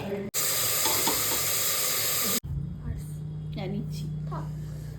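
Potato curry (aloo chorchori) sizzling in a pressure cooker, a loud steady hiss that cuts off abruptly and gives way to quieter cooking sounds while someone talks.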